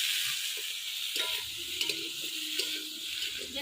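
Eggplant and flat beans fry and sizzle steadily in a pan on a village stove, a continuous bright hiss with occasional stirring scrapes, close and fairly quiet.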